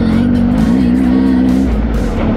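Off-road motorbike engine revving steadily on a dirt trail ride, a sustained mid-pitch drone that dips slightly as the rider dabs the rear brake, loud and close with no talk.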